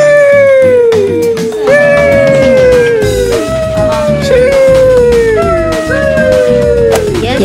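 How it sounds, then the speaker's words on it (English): A dog in a video game howls in a series of long, loud, falling wails, about five in a row, over game sounds. "what the dog doing?"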